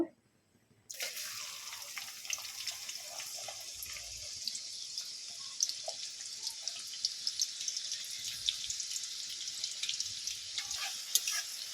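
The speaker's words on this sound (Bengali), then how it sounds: "সুন্দর লাল লাল করে একটু পেঁয়াজটা আমি ভেজে নেবো" Onions frying in hot oil with cloves, cinnamon and cardamom for chicken do pyaza, a sudden start into a dense, steady hiss and crackle that continues evenly throughout.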